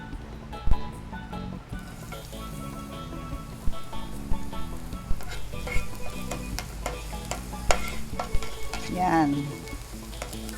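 Garlic and onion sauté in oil in a Kapampangan home kitchen, a busy sizzle with frequent stirring scrapes and clanks, with a brief spoken word near the start.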